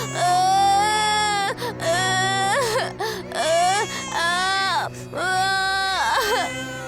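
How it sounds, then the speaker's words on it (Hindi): An infant cries out in a forest in repeated wailing bursts, each lasting a second or more with brief catches of breath between them. The cry is loud, close and continuous, set over a faint low background hum. "उन्हें एक बच्चे की रोने की आवाज सुनाई देती है"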